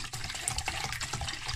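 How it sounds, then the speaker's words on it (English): Nearly three cups of red label wine are poured over stewed fruit for a Jamaican black fruit cake. The liquid makes a steady, close gushing and splashing sound throughout, with no talking. "I have almost 3 cups of red label wine, and we're gonna pour that in"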